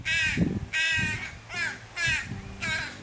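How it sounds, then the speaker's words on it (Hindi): Crows caw repeatedly at close range, five harsh calls in a steady rhythm, with chicks calling among them. "भोर हुई नहीं कि कौवे के बच्चों की काव काव काव काव शुरू हो गई"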